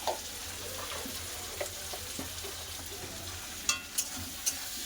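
Chopped tomatoes frying with onion and salt, a low continuous sizzle under occasional soft stirring scrapes and a few bright metallic taps near the end, close and quiet, no voices.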